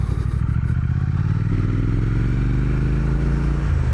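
Triumph Speed Twin 1200 motorcycle, a 2021 model, idles with a steady, throbbing twin-cylinder rumble close by, then its engine note rises smoothly partway through as the revs climb.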